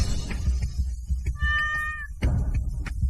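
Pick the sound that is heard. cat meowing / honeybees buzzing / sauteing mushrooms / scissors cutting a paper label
cat meowing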